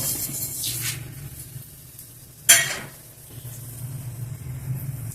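Mustard seeds, fenugreek and dried red chilies hit hot coconut oil, giving a faint steady sizzle with a sharp crackling burst midway and soft stirring scrapes around it, no voices.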